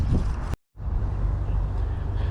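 Wind gusts buffet the microphone beside a creek, a rough low rumbling roar with a brief cutout partway through.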